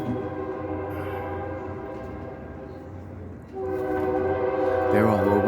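A passing train rumbles steadily nearby and sounds long, loud horn blasts that swell toward the end, with faint talk underneath.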